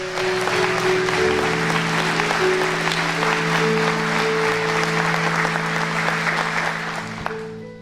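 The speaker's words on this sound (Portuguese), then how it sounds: "Se é para Jesus, aplauda com força." A church congregation claps steadily and loudly for several seconds over a sustained organ-like musical tone, fading slightly toward the end.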